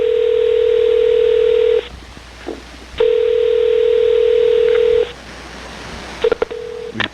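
Touch-tone telephone dialing: a steady dial-tone-like tone runs for about two seconds, pauses, sounds again for two seconds, then a short burst of quick DTMF key beeps, loud and close with no talking.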